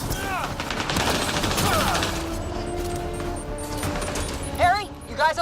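Rapid bursts of gunfire in the sci-fi shooter game Mass Effect: Andromeda, loud and dense, with a sharp blast near the end and voices talking over the firefight.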